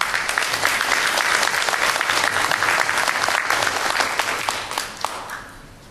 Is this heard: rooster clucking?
no